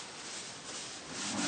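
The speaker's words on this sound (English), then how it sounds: "Right, just wipe my hands." Hands being wiped clean with a rag in a machine shop while setting up an Atlas metal shaper, a steady close rubbing and scrubbing that runs for about a second and a half.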